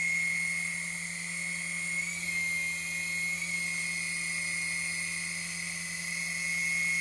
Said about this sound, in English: this is just a great little RC helicopter